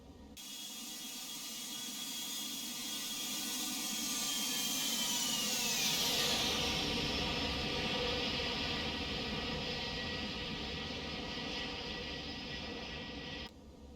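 A Toliss A319-132 airliner climbs out of Leticia, Colombia in X-Plane 12, a continuous loud jet-engine roar and whine with a slowly shifting tone that holds steady for the full length, with no voices.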